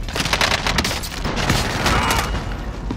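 Loud, dense gunfire from a Warzone trios match rattles continuously with rapid overlapping shots and booms, filling the whole stretch with no clear pauses.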